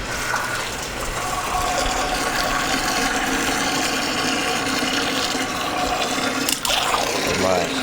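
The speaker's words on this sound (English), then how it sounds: "A decent sized pot filled up with water." Water pours steadily into a decent-sized pot, a continuous rushing gush that stays loud and even throughout, with a brief clatter near the end.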